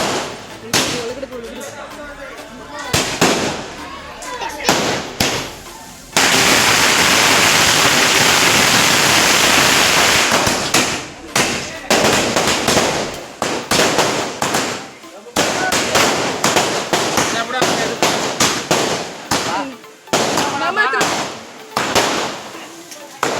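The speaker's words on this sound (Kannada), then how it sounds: "ಆಮೇಲೆ ಪಟಾಕಿನೂ ತರಿಸಿದ್ರು." Firecrackers set off at a husband's birthday celebration at home: a dense, loud roar of continuous crackling bursts lasting several seconds, with scattered sharp pops before and after, and voices in the background.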